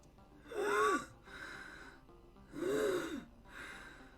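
Two loud, drawn-out gasps for breath from a person in the video game Mass Effect, each a rising-falling strained inhale, evenly spaced about two seconds apart with quieter breathy exhales between them.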